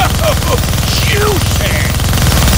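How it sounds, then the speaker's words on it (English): Minigun blasting away in the Deadpool video game, a dense, continuous rattle of rapid fire held steady and loud throughout, with brief game voices and effects chirping over the top. "Gonna need both hands to shoot that minigun."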